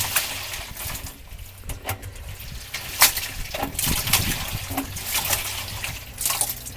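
Water sloshes and trickles inside a small Hoover toy washing machine drum, in irregular splashy bursts and drips that swell and fade over several seconds, close up and without talk.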